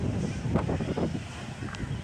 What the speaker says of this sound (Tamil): மேலே ரொம்ப பயங்கர காற்றடிக்குது